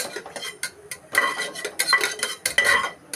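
Whole spices such as bay leaf and cinnamon frying in oil for veg biryani, crackling sizzle under rapid, repeated metal spatula clinks and scrapes against the pan, loud and close with no voices.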